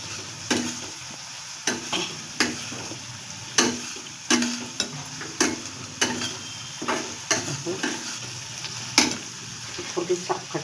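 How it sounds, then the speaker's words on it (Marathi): Upma mixture seasoned with asafoetida is stirred in a hot pan. A spatula scrapes and knocks against the metal in a steady, repeated rhythm over a constant sizzling hiss, close up, with no one speaking. "आणि सगळं मिश्रण एकत्र मिक्स करून घेणे।"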